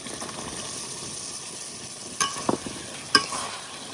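Soya chunks stirred and fried in a spice paste, a low steady sizzle broken near the end by a few sharp spoon clanks and scrapes against the pan, with no talking.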